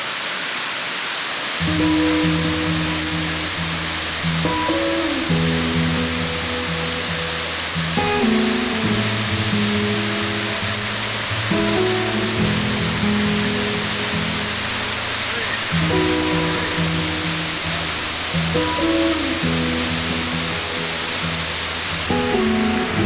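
Steady, dense roar of a waterfall at Letchworth gorge, broad and constant, with a low engine-like hum and occasional faint shifts underneath.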